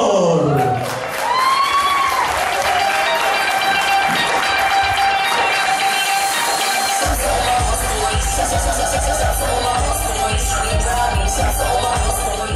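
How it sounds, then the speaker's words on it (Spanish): A live stand-up comedy audience applauds and cheers as a comedian is welcomed onto the stage. Music plays at first, then the clapping and crowd noise fill out into a loud, continuous wash. "vamos a recibir en este escenario, con un fuerte aplauso, por favor"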